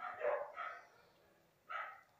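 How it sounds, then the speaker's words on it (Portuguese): Neighbour's dogs barking fiercely, three loud barks in two bursts with a short pause between, fairly close and with no talk over them. "os cachorros do vizinho tá feroz"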